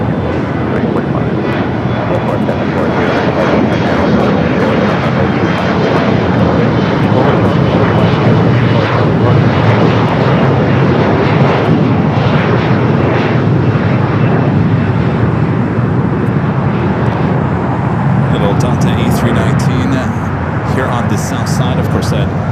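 Jet airliner engines roar steadily on an LAX runway, with a SkyWest Embraer E-Jet and an American Airlines flight nearby, a loud continuous rumble throughout, with a person talking over it.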